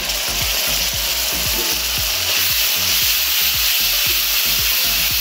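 Green paste of ground coriander leaves, green chilli, ginger and garlic sizzles loudly in a hot pan, a steady broadband frying hiss with a spatula scraping and stirring in quick irregular strokes throughout, no voice.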